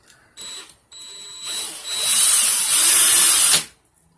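A power drill twisting wire for a coil whirs in short starts, then spins up to a loud, steady high whine for about two seconds before cutting off, close by.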